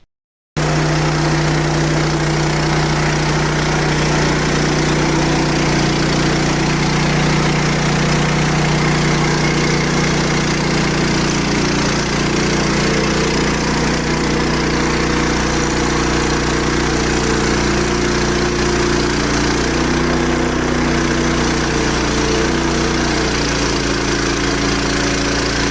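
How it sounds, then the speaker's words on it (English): A newly bought engine-driven sawmill cuts its first 1-inch board from a log, a steady, loud, close mechanical drone that holds almost unchanged throughout with only slight shifts in load. "All right, we're going to make our first cut."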